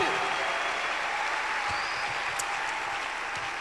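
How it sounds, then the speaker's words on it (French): A congregation at a worship service bishop's session gives a loud, continuous roar of applause, sustained and even throughout, with faint tonal sounds under the clapping. "Clap your hands."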